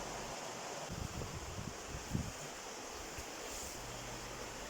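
A limestone-bedded river in Chee Dale flows past stepping stones, a faint, steady broadband rush with light wind buffeting and no voices.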